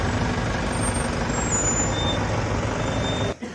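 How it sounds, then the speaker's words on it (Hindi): Wedding procession vehicles pulling away one by one, a steady loud rumble of truck and bus engines with a hiss like air brakes, continuous and close, easing off at the very end. "निकल रही है बारी बारी से गाड़ी"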